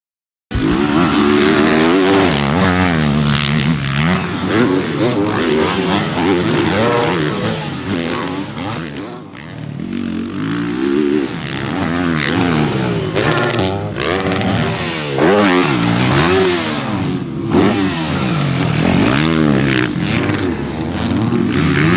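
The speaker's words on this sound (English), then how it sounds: "let's take a look at the first riding footage of Cooper Webb on training on that Star Yamaha 450" Cooper Webb riding a Star Yamaha 450 motocross bike in training, the engine revving and shifting loudly and continuously up close, pitch rising and falling through throttle changes with brief dips.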